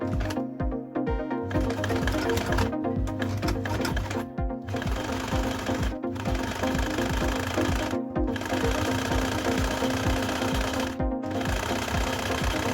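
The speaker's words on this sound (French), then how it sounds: "Je vais piquer les 2 côtés et le bas du rideau." A sewing machine runs steadily while stitching the side and bottom hems of a curtain, a loud, fast mechanical rattle in long bursts separated by a few brief stops.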